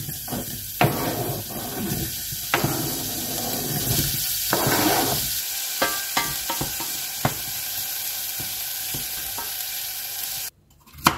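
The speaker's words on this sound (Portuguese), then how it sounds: "Agora ele vai colocar na panela o alho e a cebola para refogar." Garlic and onion sautéing in a pan for a baked zucchini and ground beef dish, a steady sizzle with stirring clatter and occasional utensil knocks against the pan, close and continuous throughout.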